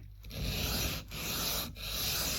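Heavy-duty sandpaper rubs against a part from an Alvarez acoustic guitar in three long, close, rasping strokes with brief pauses between them.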